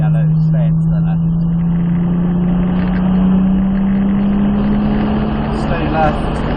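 A Nissan Skyline R34 GT-R engine drones steadily on a track, its pitch rising gradually as it pulls through a gear. The sound stays loud and even throughout, with no voice over it.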